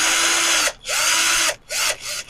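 An electric fan motor, freshly oiled at the bushing and shaft, whirs loudly in three close bursts, revving up and cutting off with short pauses between.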